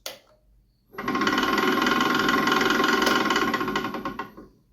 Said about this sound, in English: This is my Nova Comet 2 MIDI lathe, and it sounds like this.